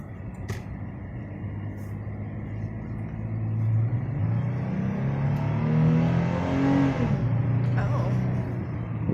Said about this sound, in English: We are driving it's a 2019 Toyota 4Runner.